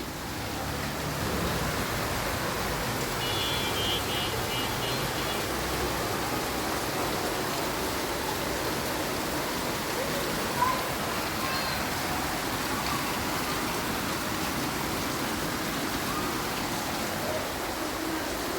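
Heavy rain pouring down outside a home's veranda on a dark afternoon, a dense, steady hiss throughout with a faint chirp and one small tap partway through.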